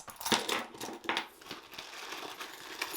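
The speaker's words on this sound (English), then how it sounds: "my car keys" Car keys jingle and clink as they are handled alongside other items from a small Louis Vuitton handbag, several brief metallic rattles close by with quiet gaps between.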